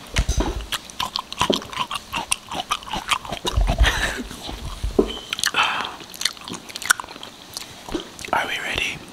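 Crunchy bites and chewing of grapes close to the mic, sharp irregular crunches and wet mastication, with people talking and whispering between bites.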